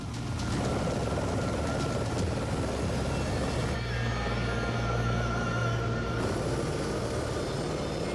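A helicopter from the video game Yakuza 0 gives a loud, constant rotor drone with a steady low throb throughout, and no one speaks over it.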